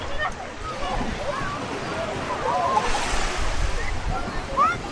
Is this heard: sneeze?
no